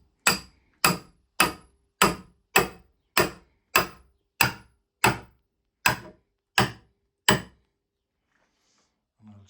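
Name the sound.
tapping a pin through with a hammer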